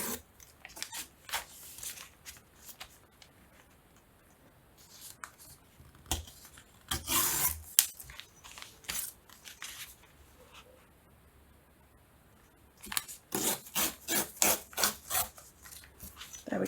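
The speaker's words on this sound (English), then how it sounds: "I'm just going to take my ruler, place it where I want it, and just tear off the excess." Paper tearing along a ruler while trimming journal pages, heard as bursts of sharp ripping and rustling at close range. Quiet handling pauses separate the bursts, and a longer run of quick tearing strokes follows near the end.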